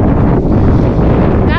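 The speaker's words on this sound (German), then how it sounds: "Das ist eigentlich der Wind," Strong headwind buffets the microphone of a cyclist riding toward the Baltic coast, a loud continuous rumbling roar that masks everything else.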